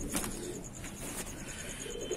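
Soft, low coos from a white pigeon repeat a few times against a quiet background hiss.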